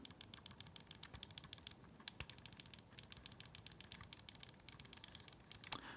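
Rapid, steady clicking of the face buttons on an NYXI Flexi game controller, crisp tactile taps pressed in fast succession, close and quiet with no voices.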